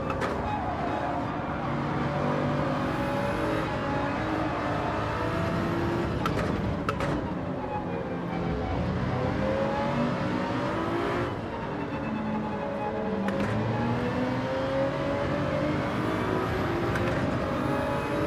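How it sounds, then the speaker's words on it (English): Gran Turismo 7 race cars, Gr.3 machines at Interlagos, accelerating hard out of hairpins; a continuous layered engine drone with rising revs and whirring, steady and fairly loud, with some faint talk beneath. "these cars with better acceleration just get out of those hairpins so much faster"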